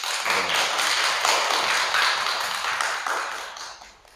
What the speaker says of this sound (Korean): 박수 한번 보내주실래요?